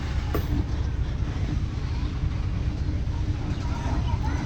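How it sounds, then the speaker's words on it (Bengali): An Indian train rolling in across the border into Bangladesh, a continuous low rumbling drone of moving railcars, fairly loud and steady, with people talking over it. "এখনও ট্রেন ঢুকতেছে, আসতেছে।"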